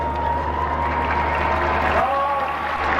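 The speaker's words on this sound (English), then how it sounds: "Now hear the crowd roar as they step onto the shore" A large crowd roars and cheers as the Prince and Princess of Wales step ashore at the harbour steps on Australia Day 1988, a continuous broad wash of distant voices with a faint whistle-like tone.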